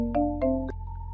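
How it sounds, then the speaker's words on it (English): A cell phone rings early in the morning, playing a short melodic ringtone of three chiming notes that settle into a held tone. It is clear and fairly close, with no voices. "his cell phone rang."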